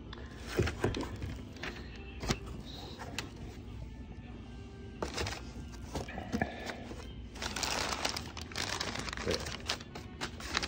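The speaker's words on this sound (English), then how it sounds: "Bunch of paper wrapping." Paper packing wrap from a mailed box crinkles and rustles in dense, uneven bursts at close range, growing busier toward the end with no speech over it.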